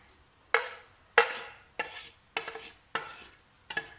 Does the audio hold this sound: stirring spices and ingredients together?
yes